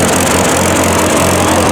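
An old engine runs loud and close as a steady, even drone with a low rumble. The sound holds without a break or change in pitch throughout.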